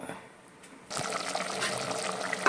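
Water poured from a mixer jar into a pot of rasam on the stove, a quiet start giving way to a steady, continuous splashing pour that runs to the end.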